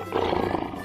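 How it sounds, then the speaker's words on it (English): A lion gives a deep, loud, sustained roar that fills the whole short moment, rough and close, with no pause or talk. "Lion."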